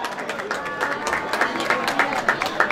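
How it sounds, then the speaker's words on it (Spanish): Audience applause at a town patronal festival concert stage in Quezaltepeque, a moderate patter of clapping with crowd murmur and faint voices mixed in, running through the short stretch. "Fuerte el aplauso para él."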